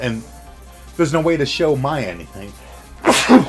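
A single sharp sneeze bursts out near the end, loud and close, following a stretch of someone speaking.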